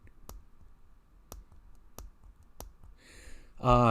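Several sharp plastic-metal clicks about a second apart, close up, as the scissors handle of a Leatherman Squirt PS4 multitool snaps against its liner, followed by a voice starting to speak.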